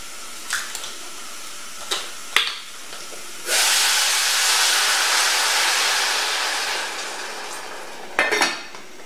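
Pure apple juice, with no water or sugar, is poured into a hot pan of cooking apples and sets off a loud, steady sizzle lasting several seconds, framed by sharp clinks of utensils against the pan.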